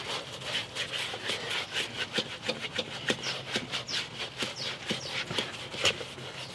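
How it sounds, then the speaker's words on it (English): A clay bar mitt wipes back and forth over a car wheel surface, producing rhythmic close-up rubbing and squeaking strokes in a steady repeated pattern. "all we need to do is dunk it in and start wiping over the surface"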